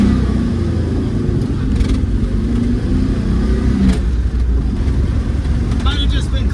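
A 1978 Plymouth Volare's engine is held at steady high revs in a burnout attempt, a continuous loud droning roar with people talking over it.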